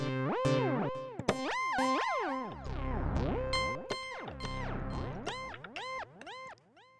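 Logic ES1 synthesizer notes with pitch glides sweeping down as far as two octaves, a series of bright, buzzy tones bending and swooping in quick succession, loud and close with no talking.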